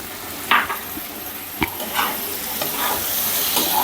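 Peeled shrimp pieces and soft new potatoes fry in a pan, with a continuous sizzle broken by several sharp scrapes and clatters as the mixture is stirred.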